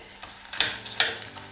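Edible gum (gond) frying in a pan on a low flame: a faint sizzle under two sharp, bright scraping strokes of stirring and a few small ticks, close and brief.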